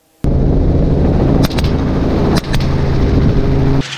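A gunshot rings out during a helicopter hog hunt over a loud, steady roar of rotor and engine noise, with a couple of sharp cracks standing out close by.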